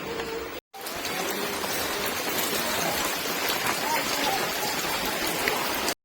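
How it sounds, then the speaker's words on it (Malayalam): Heavy rain pours down steadily outdoors on a wet day, a dense, continuous hiss of drops striking surfaces close by, broken by one very short gap. "മഴയല്ലേ പുറത്തിറങ്ങാൻ പറ്റില്ലല്ലോ"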